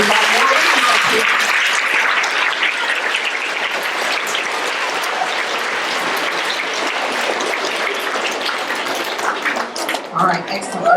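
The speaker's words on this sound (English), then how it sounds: "All right, clap again." Sustained clapping from a school audience at an elementary awards assembly, a loud, full wash of many hands that carries on steadily, with voices faintly mixed in and a brief dip toward the close.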